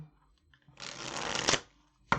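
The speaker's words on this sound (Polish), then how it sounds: "Bardzo dobrze się tasuje, chciałam powiedzieć." A Deviant Moon tarot deck made of thin paper is riffle-shuffled up close, giving one dense burst of rapid card flutter ending in a snap, followed by a brief card tap.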